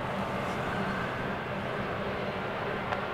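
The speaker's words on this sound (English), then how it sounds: "runway 22 right, clear for takeoff." An airliner taking off from runway 22 right at Boston Logan airport, heard from a distance as a steady, rumbling engine roar that stays even throughout.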